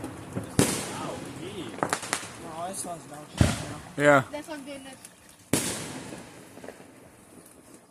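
Small backyard fireworks and firecrackers burst in several loud, sharp cracks and bangs at irregular intervals at close range, while onlookers talk and exclaim between the blasts.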